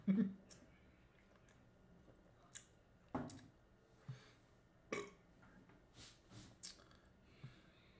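A few short burps pop out at irregular intervals during an AFL live stream of a Brisbane Lions versus Melbourne match, faint against a quiet background.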